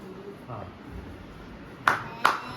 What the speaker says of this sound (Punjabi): ਚਲੋ ਜੀ ਹੁਣ ਤਾੜੀਆਂ ਮਾਰਨੀਆਂ